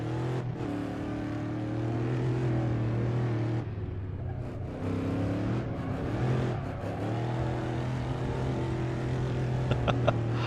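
A heavy race car's engine drones steadily in a sim racing game, its pitch rising and falling as it brakes and accelerates, loud and continuous with no talk.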